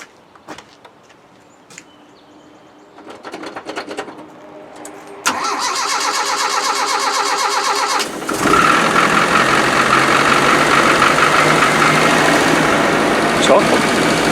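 An old car sits for years, then cranks with a new coil and a little fuel: scattered clicks and a sputter, then a whirring crank that catches into a loud, rough, steady idle close by.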